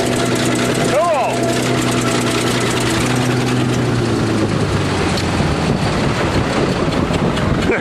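A bulldozer engine runs loudly and steadily close by, holding a heavy mechanical drone the whole time with a sweeping rise near the start as it revs, while voices talk over it.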